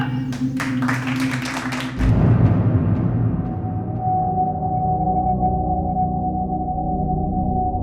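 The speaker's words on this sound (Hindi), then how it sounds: "तालियां" A burst of hand clapping from a gathered crowd rings out for about two seconds, then gives way to a sustained low, droning music bed.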